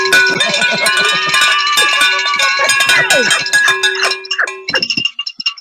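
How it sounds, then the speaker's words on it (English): A handbell rings rapidly and loudly over excited talking and shouting, the ringing fading into a few scattered strokes at the end. "Ring the motherfucking bell"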